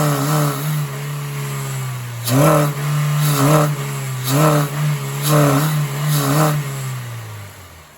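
A Honda Mobilio/Brio engine with throttle-by-wire revs up in five or six quick, evenly spaced blips from a steady idle, each rise and fall close and distinct, with no voices.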